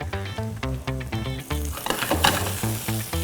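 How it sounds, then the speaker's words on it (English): Chanterelle mushrooms sizzle in a hot pan while a utensil scrapes up the browned fond, heard as bright frying noise and scraping under loud rhythmic tonal music. "I'm gonna scrape up that delicious mushroom fond that's at the bottom of this pan"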